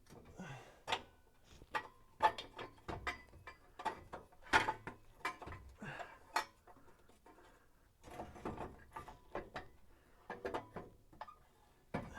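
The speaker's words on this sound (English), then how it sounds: "just bolt this thing into position" Bolts being tightened in a garage: intermittent quiet metallic ratcheting and clicking bursts, irregular and close, with faint handling knocks between them.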